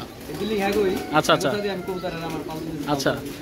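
Tournament pigeons in a home loft coo in low, throaty rolling calls, a few overlapping bouts close by with some background noise.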